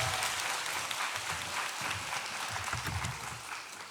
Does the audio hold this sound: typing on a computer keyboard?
no